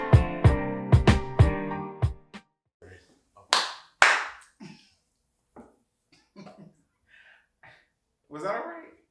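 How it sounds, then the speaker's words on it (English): A lone person claps a couple of times, sharp and close, after talking and laughter in a casual group, with scattered voices and coughs around the claps. "Just one person clap."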